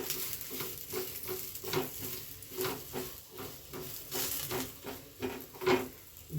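Oil sizzles lightly on a pan while masala akki rotti, a spiced rice-flour flatbread, cooks. A soft, steady frying hiss runs under repeated gentle scraping and patting sounds, close and fairly quiet.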